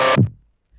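A static synthesizer patch with no LFO movement, heard in a death-trap sound-design patch: one short loud burst that cuts off abruptly, a faint tail fading within half a second, alone.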